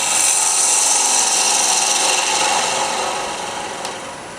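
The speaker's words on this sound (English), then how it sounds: "I'm going to take back my fingernail gouge and go in here and clean it out." A fingernail gouge carving and cleaning out wood gives a loud, continuous scraping rasp that holds steady, then eases off slightly toward the end, with no talk.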